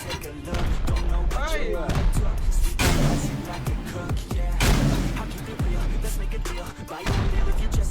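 Gunfire in an online shooting game, loud repeated bangs and booming blasts in bursts across the clip, mixed with players talking over voice chat.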